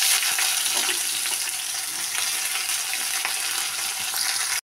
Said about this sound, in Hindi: तो देखिए प्याज को भूनते हुए 2 मिनट हो गया है।